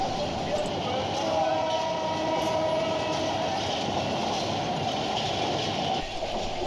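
A passenger train runs through Tejgaon railway station in Dhaka's Tejgaon industrial area, near a large curve. Its loud, steady rumble and wheel clatter fill the scene, with a brief squeal and people talking underneath.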